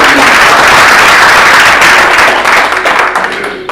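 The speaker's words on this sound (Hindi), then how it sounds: "जोरदार तालियां" An audience at a business presentation bursts into loud, close applause, dense clapping that holds strong and then gradually thins toward the end.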